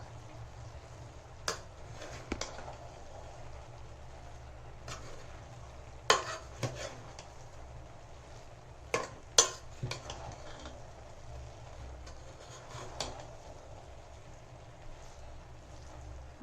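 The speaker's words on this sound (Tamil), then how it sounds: "இப்போ லேசாக கிளறி விடணும், அரிசி உடையாமல், ரொம்ப லேசாக" A spoon gently stirs half-cooked vegetable biryani rice in a metal pot, making soft scraping and scattered sharp clinks against the pot over a faint background hiss.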